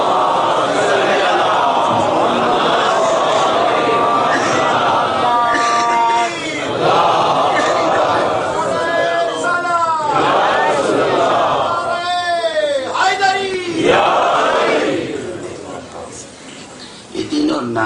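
A large mosque audience recites salawat together in unison, a swelling chorus of many voices rising in repeated chanted phrases, loud and reverberant, with a few louder individual calls standing out.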